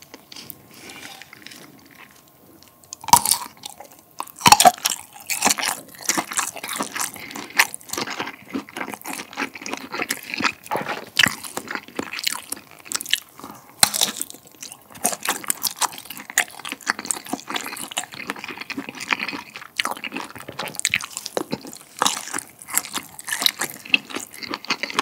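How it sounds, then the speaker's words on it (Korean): Close, crisp bites and wet chewing of a firm Uiseong garlic ham sausage, with irregular crunchy snaps and squishy mouth sounds repeating throughout, no talking. "이거는 우리가 진짜 너무 익숙하게 잘 알고 있는 의성 마늘 햄 맛입니다."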